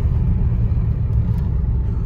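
A car driving fast along a mountain road near the Atal Tunnel at Rohtang, a steady close low engine rumble with road noise and no voices.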